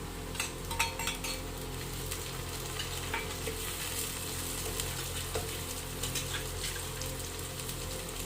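Chopped tomatoes fry in a clay pot for a Tamil-style fish curry, a steady close sizzle with occasional clinks and scrapes of a stirring utensil against the pot.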